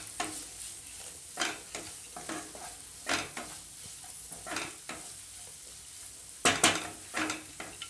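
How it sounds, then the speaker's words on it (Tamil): Okra and grated coconut sauté in a pan under a quiet background sizzle. A spatula scrapes and taps in spaced, intermittent strokes, and a sharper cluster of clatters comes near the end. "தேங்காய் பூ போட்டு ஒரு 30 செகண்ட் வதக்கினா போதும்"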